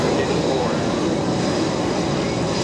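Vintage World War II trainer aircraft flying inbound in precision formation at an airshow, a steady, loud broadband engine drone that holds continuously without break throughout.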